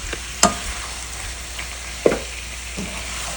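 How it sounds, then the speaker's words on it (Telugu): Chicken pieces fry with ginger garlic paste and spices, giving a soft, even sizzle broken by two sharp utensil knocks against the pan. "ఈ జింజర్ గార్లిక్ పేస్ట్ కూడా కొంచెం వేగింది. ఇప్పుడు కొంచెం స్పైసెస్ అన్నీ కలుపుకున్నాం కదా, ఆ చికెన్ పీసెస్ కూడా కలిపి మగ్గించుకున్నాం."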